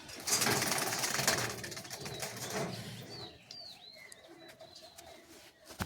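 Giribaz pigeons close by, a loud burst of fluttering wings followed by soft cooing and scattered chirps in a quieter stretch.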